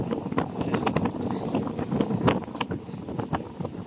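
Strong gusting wind batters the microphone while crossing a bridge between Binondo and Intramuros, Manila, a loud continuous rumbling roar with sharp buffeting bursts and faint background traffic clatter.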